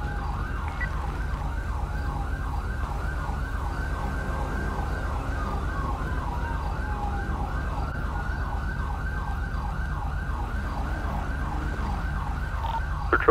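Police siren in a GTA-style roleplay game wails with a fast, repeating yelp over a low engine hum, steady and moderately loud for the whole stretch.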